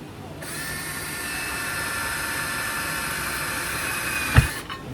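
A tool grinds steadily through a metal lid pressed down hard on the floor, a continuous whining drone for several seconds that ends with a sharp thump as it breaks through.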